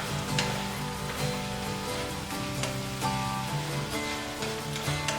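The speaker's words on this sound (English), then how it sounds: "Give it a little stir." Tomato sauce simmering in a pan over medium heat, with a continuous bubbling, sizzling hiss and soft stirring scrapes, close and steady.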